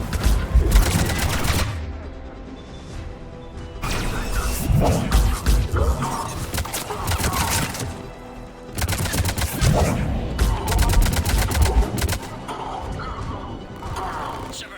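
Heavy gunfire from a Mass Effect 3 firefight with Cerberus troops at a Krogan checkpoint: dense bursts of rapid automatic shots and crashes, loud and close, pausing briefly between volleys.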